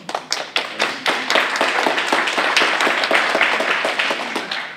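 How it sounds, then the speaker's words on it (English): An audience at a school board town hall meeting in a high school claps loudly, a steady burst of dense applause with crisp individual claps, ringing out alone without voices. "since we applauded"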